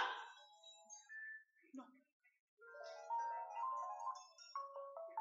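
A toy mobile phone plays a bright electronic ringtone melody in the second half, loud and close, after a child's squeal and a short pause.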